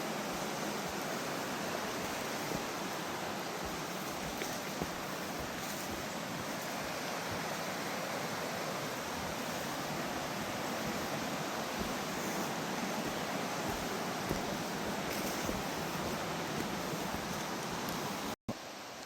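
Flowing water of West Canungra Creek in forest, a steady broadband rush and babble filling the whole stretch, continuous and fairly close, with no voices.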